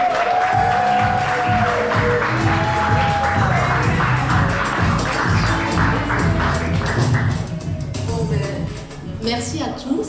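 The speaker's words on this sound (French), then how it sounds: "Une main d'applaudissement encore, s'il vous plaît" Guests at a baby shower party applaud and cheer loudly, with whoops, shouts and a voice mixed into steady clapping; voices chatter throughout, and the clapping thins near the end as someone starts to speak.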